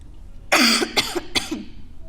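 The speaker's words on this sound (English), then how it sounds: "Sorry, I have a very bad cough." Three harsh, close coughs in quick succession, the first the loudest, with brief gaps between them.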